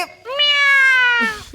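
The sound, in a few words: cat meowing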